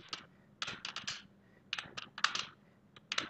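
Fingers tap out a form on a computer keyboard in quick uneven bursts of sharp clicks, with short pauses between the runs of keystrokes, close and fairly quiet, no voice.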